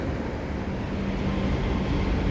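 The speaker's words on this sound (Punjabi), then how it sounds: "ਦੇਖੋ ਆਪਣੇ ਘਰ ਦੇ ਕੋਲ ਦੀ ਟ੍ਰੇਨ ਲੰਘਦੀ ਹੈ" A low, continuous rumble of a metro local train rolling past near a house, steady and fairly close, with no voices.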